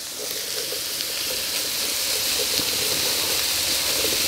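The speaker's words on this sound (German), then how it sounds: "Die Zwiebeln nur schon mal leicht anbraten." Onions and root vegetables sizzle and fry in a pot over an open fire, a steady, bright crackling hiss that holds constant throughout.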